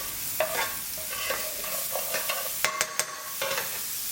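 Chilli spice cooking in a pan over lowered gas heat for chicken vindaloo, with a steady soft sizzle broken by a few brief clinks and stirring scrapes close by, no voices.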